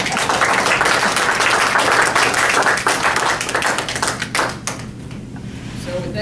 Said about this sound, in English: let's give Quanah the last word and a round of applause